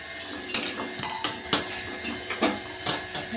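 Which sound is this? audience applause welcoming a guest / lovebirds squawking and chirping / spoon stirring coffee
spoon stirring coffee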